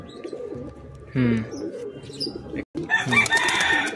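A Kaldom pigeon with a closed tail and Jamuni-panja feet coos in a loft, soft throaty calls near the mic, with other birds and brief rustling noises around it.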